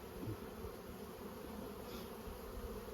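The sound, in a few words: honeybees buzzing in a brood box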